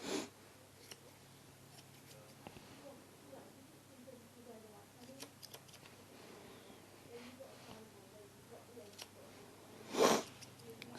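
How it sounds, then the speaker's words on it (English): A single short, sharp sniff at close range near the end, preceded by quiet rustling and a faint one at the start, over low background hum. "Sorry if you hear me sniffling as well."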